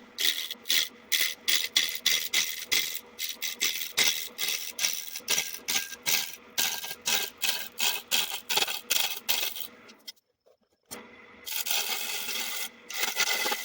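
A woodturning lathe cuts a tenon into a spinning 2x4 workpiece, giving rapid, loud, rhythmic scraping and rattling bursts that break off briefly into near silence before a steadier cutting noise returns.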